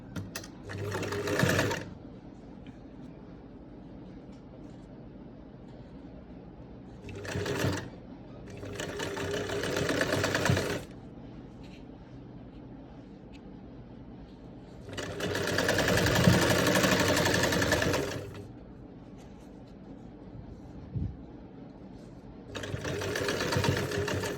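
Domestic sewing machine stitching lace onto a kameez neckline, running in four short bursts of steady whirring and needle chatter separated by quiet pauses, with faint speech in the gaps.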